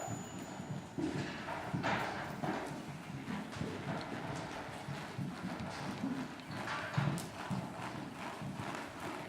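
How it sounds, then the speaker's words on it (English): Hooves of a saddle seat horse clip-clopping at a steady light trot on firm ground, a continuous rhythmic beat of footfalls with some background rustle, moderately close. "Now at a light trot."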